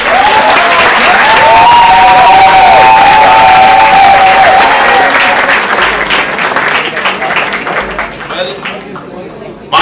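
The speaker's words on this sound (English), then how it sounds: "Big clap for the lady." An audience claps for a woman who appeared in a Mongolian film at a film festival evening, steady loud applause throughout with a voice or tonal sound over the first half, then thinning out toward the end.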